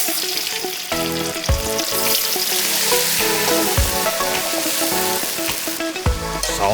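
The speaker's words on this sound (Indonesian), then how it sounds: "Langsung aja kita tumis semua bumbu dan rempah yang sudah dihaluskan si teteh." Boiled jackfruit sautéing with ground spices in a hot pan, a continuous loud frying hiss with stirring clatter, with music playing over it and no voices.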